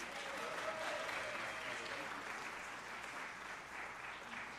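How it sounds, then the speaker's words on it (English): An audience at a faculty band concert gives a steady, continuous round of applause, many hands clapping at once in a room without a break. "Do you want to give them one more round of applause?"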